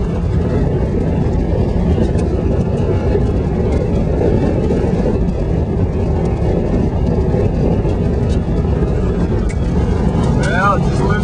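A car cruises over a loose, sandy gravel road in rural Montana, with a continuous heavy rumble of tires and engine that holds steady and fairly loud from start to finish.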